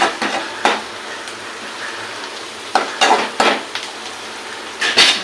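Onions and mustard seeds fry in a pan for Madras-style prawn thokku. A spoon stirs them in loud, irregular metallic scrapes and clatters against the pan over a low sizzle, close up and without talk.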